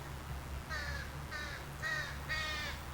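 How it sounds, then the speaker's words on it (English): Young crows a couple of weeks past fledging give four high, squeaky, rasping begging calls in a steady series, fairly close, over a low rumble of background noise in the woods near Orford, New Hampshire. "That's the crows."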